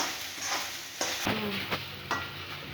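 Food frying in oil with turmeric added in a pan, a steady broadband sizzle running throughout with a few sharper stirring scrapes and clinks of a utensil against the pan, close and moderately loud.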